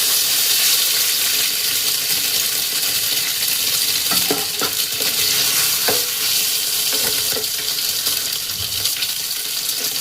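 Continuous close sizzling of paneer frying in hot mustard oil, with a few light clinks of stirring, no voices.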